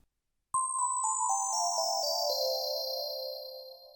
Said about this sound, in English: There's a bell-like synth